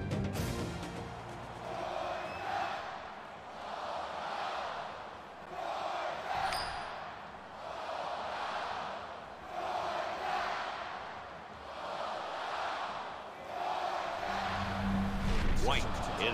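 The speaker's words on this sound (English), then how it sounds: "you can feel the thunder in the crowd as they await the start of this game" Stadium crowd noise from an NCAA Football 2020 video game, Auburn at Georgia, swelling in repeated waves of roaring cheers as fans await kickoff, loud and continuous with a brief sharp ping midway.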